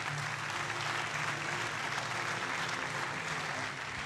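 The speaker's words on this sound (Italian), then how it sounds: "l'applauso allo straordinario equipaggio del Palio delle Antiche Repubbliche Marinare di" Audience applause at a Panathlon awards event in Venice for a rowing crew of the Palio delle Antiche Repubbliche Marinare, dense sustained clapping from a crowd in a hall, steady throughout and fading slightly at the end.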